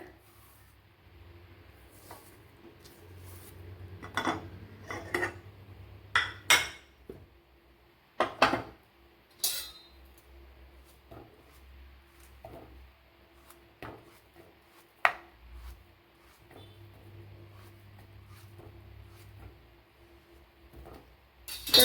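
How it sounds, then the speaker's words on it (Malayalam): Ripe plantains peeled and cut on a kitchen board: close, sparse knife taps and sharp clicks in uneven bursts, with soft handling rustles and a low background hum. "മറ്റതും ഇതേപോലെ തോടിളക്കി കട്ട് ചെയ്തെടുക്കാം."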